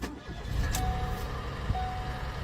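A 1.0-litre car engine struggling after a check engine light and loss of power, idling roughly with an uneven, low rumbling drone and a few faint thumps, fairly quiet throughout.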